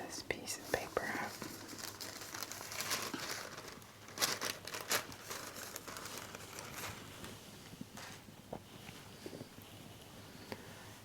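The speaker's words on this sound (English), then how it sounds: "Take this piece of paper out." Paper crinkles softly as a sheet is lifted out of a sky blue MacBook Air M4 box during a quiet unboxing, with light rustling and tapping in a close, hushed space.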